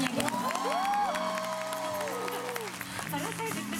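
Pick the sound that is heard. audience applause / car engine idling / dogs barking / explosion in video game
audience applause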